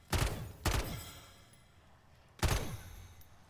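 Gunfire in Call of Duty MW3 Zombies, three loud sharp bursts with the first two close together and the third after a pause, each fading quickly.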